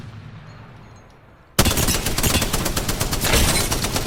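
Spitfire light machine gun in Apex Legends firing a sustained full-auto burst that bursts in abruptly after a quiet moment, loud, close and continuous, with rapid rattling shots and no talk.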